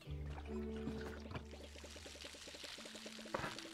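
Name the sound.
watering plants with a watering can in the video game Palia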